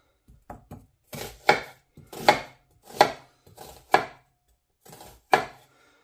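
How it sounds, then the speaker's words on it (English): A knife finely chops onions for a pumpkin chutney, about a dozen crisp, close strikes falling in small uneven bursts with short pauses between them, with no other sound. "So I will finely chop these now and add them"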